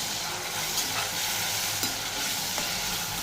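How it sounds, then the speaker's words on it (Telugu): Soaked prawns fry in oil over medium heat with a strong, continuous crackling sizzle. A few brief scrapes from stirring sound over it, with no voices. "ఇవి కొంచెం బాగా వేగాలి"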